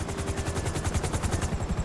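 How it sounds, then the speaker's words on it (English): A helicopter closes in during a rooftop raid in the video game GTA V, its rotor chopping in a fast, steady, loud rhythm that blends with bursts of gunfire. "MIB chopper, he's on to us!"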